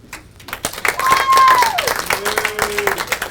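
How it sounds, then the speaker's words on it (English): Comedy club audience applauding in a stand-up show, a crowd's clapping swelling after a quiet start and continuing under a voice speaking over it. "Let me hear the Democrats in the room first by applause."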